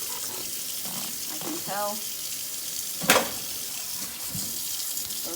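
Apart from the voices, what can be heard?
water filling milking equipment during cool wash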